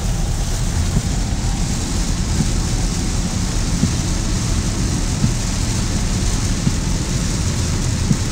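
Heavy rain pounds down on a flooded road in Munich, Germany, a dense, continuous roar heard close from inside a vehicle, with a low rumble beneath and no voices.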